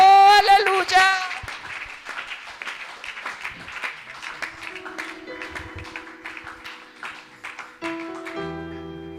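Worshippers in a Spanish-language church service applaud in scattered, rhythmic patter after a sung phrase. Sustained keyboard tones continue underneath the claps, and a voice sings at the start.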